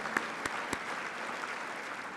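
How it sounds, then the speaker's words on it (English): Steady applause from a dinner crowd fills the space, with a few sharper claps standing out near the start, moderately loud and continuous. "let's give them a special round of applause for the dinner committee and council staff"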